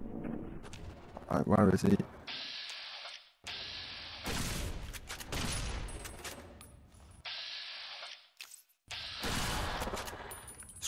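Rapid bursts of gunfire in the Fallout New Vegas Dead Money game, repeated volleys with short pauses between them, loud and close, and someone talks over part of it.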